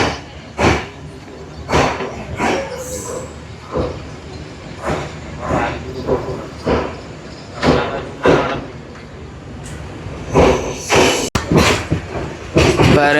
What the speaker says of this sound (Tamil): நாங்கள் வந்து மருதானை புகையிரத நிலையத்தை அடைஞ்சிட்டோம்